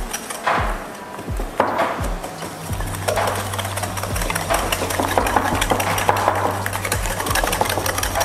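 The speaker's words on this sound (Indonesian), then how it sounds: "kita akan campurkan brown sugar dan telur. Oke, ini kita akan aduk." A spoon scrapes and knocks rhythmically against a bowl, stirring brown sugar and eggs together for brownie cookies, with the strokes close and steady over a constant low hum.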